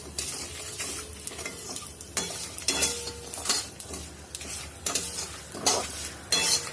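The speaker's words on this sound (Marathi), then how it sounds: "तिळाला थोडंसं परतून घेऊया." Sesame seeds and peanuts roasting dry in a pan for a curry leaf chutney, stirred with repeated scraping strokes over a steady close crackle, with occasional light clinks of the utensil against the pan.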